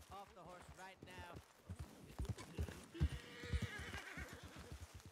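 Hooves clip-clop in a quick rhythm while a horse whinnies nearby, with people talking over the commotion, in a Red Dead Redemption 2 roleplay game.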